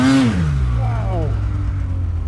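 A Polaris 9R snowmobile fitted with an Arctic Cat track accelerates hard, a loud, close engine note rising and sweeping in pitch before settling into a steady drone.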